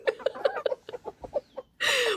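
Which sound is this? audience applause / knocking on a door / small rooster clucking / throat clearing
small rooster clucking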